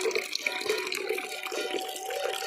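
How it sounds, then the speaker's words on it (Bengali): Water runs steadily from a household tap in a home kitchen, where prawns are to be rinsed, a continuous close splashing hiss with no talk over it. "জল চলে এসছে"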